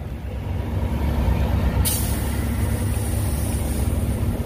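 Steady compressed-air hiss from a leaking truck air system at a truck stop, a constant broadband rush over a low idling rumble, with a sharper high hiss starting partway through and continuing to the end.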